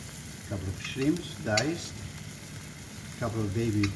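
Diced shrimp sizzling in a pan of cooked vegetables for a Mediterranean bouillabaisse, a steady soft frying hiss under a person's speaking voice.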